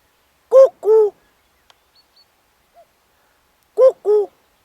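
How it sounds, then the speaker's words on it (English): Common cuckoo calling its two-note cuckoo call near a hedge, two clear calls a few seconds apart, fairly loud and alone with no talk. "The cuckoo came straight over the top of the hedge"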